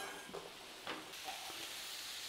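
A sizzling pan of squash and vegetables is stirred with pepper added, giving a steady soft hiss with a few brief scraping stirs, close and fairly quiet.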